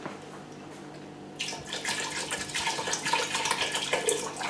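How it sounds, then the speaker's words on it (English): Water pours into a pot of carrot and coriander soup, beginning after a short quiet moment and continuing as a steady, close splashing stream until the end. "I'm just going to add a little bit more water."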